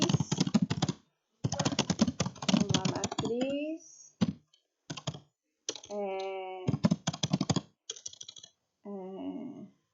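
Computer keyboard typing in bursts of rapid clicks, close and fairly loud, broken by short pauses, with someone speaking in between and over the keystrokes.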